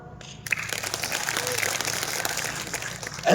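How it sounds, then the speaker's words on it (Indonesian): A crowd at a Monday morning combined assembly led by the regional secretary in South Manokwari breaks into applause, a dense wash of clapping that swells after a brief pause and holds steady for a few seconds outdoors. "Tepuk tangan."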